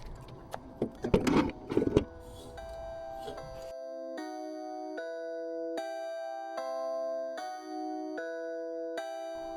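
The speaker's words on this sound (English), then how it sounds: "Test the motor." A Crazy Cart drift toy's electric motor is tested: a few sharp clattering bursts, then a run of clear, steady electronic tones stepping in pitch, close and fairly quiet.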